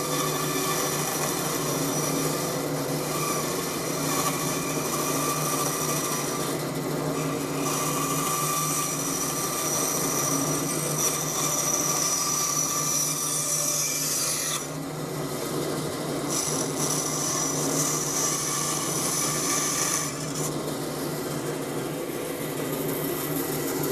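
A band saw runs and cuts through wood, making a continuous loud whirring rasp with shifting grinding tones as the blade works the piece, close and steady throughout.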